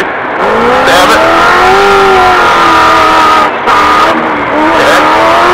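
An off-road race vehicle at a desert qualifying race accelerates hard, its loud, close engine roaring continuously with rising pitch through the gears and brief dips between shifts.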